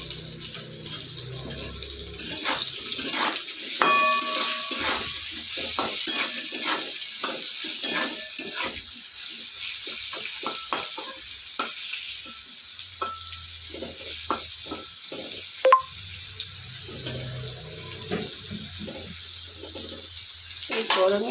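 Salted bitter gourd fries in a pan with a steady, close sizzle, punctuated throughout by the scrape and clink of stirring, with no talking.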